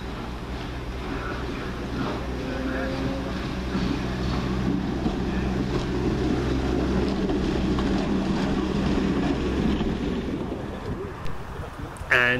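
A West Midlands Railway train pulls away from Stourbridge Junction, a low diesel drone with humming tones rising and fading, heard from the platform under steady wind noise.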